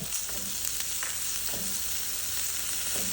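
Egg and coriander leaf masala being stirred in a hot pan, a steady broad sizzle with soft scraping strokes of a spoon recurring every second or so, close and continuous with no talk.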